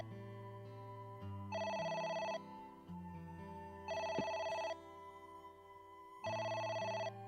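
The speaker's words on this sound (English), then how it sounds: "Turn around. No, the phone. There we go. It's the phone." A telephone rings in the detective game AI: The Somnium Files, with three evenly spaced bursts of trilling electronic bell tone over a steady low musical background, no talk.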